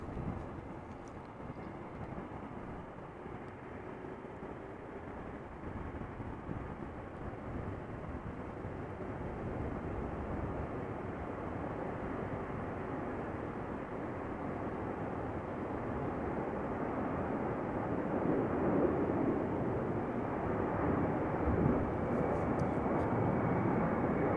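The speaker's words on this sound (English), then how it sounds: "So Boeing 747 from Atlas Air" An Atlas Air Boeing 747 taking off at Amsterdam gives a steady, broad jet roar that slowly builds louder over about twenty-four seconds, heard from a distance with no talking.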